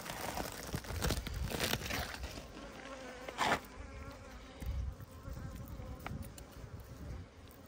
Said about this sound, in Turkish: Arı çok canlı, kalabalık, giriş çıkış.